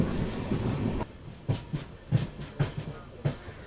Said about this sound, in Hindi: ट्रेन हमारी Shoranur junction railway station enter कर रही है